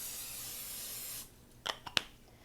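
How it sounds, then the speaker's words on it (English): A steady hiss from a nonstick cooking spray can spraying a 9x13 baking dish for about a second, followed by a few short clicks and taps. "I'm going to spray a 9x13 baking dish with some nonstick spray"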